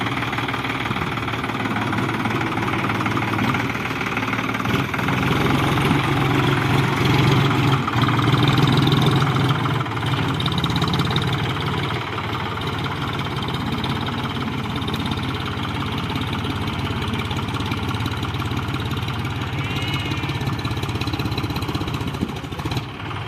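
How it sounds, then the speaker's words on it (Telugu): A tractor engine idling at a construction site, a steady, loud mechanical rumble with knocking vibration that holds for the whole stretch, with no talk. "ఇదైతే మన ట్రాక్టర్ అనమాట."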